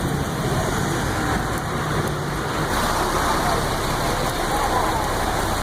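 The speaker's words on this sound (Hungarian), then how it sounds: "És megint esik az eső." Rain falls outdoors as a steady, dense hiss that fills the whole clip at an even, fairly loud level, with no clear breaks and no distinct drops standing out.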